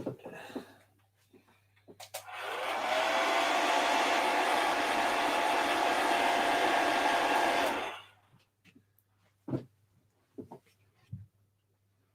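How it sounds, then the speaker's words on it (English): A hair dryer blasts steadily on still-wet paint, a loud, even roar lasting about five seconds that switches on and cuts off abruptly, with a few light clicks and handling knocks before and after. "Right, hair dryer."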